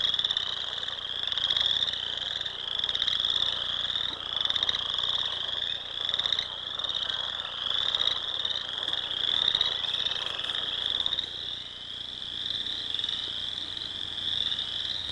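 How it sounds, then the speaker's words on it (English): A dense chorus of many different kinds of frogs calls from a wetland, a continuous shrill trilling pulsing steadily throughout, with lower croaks underneath, heard at a moderate distance with no talking. "If you listen carefully, you can hear many different kinds of frogs."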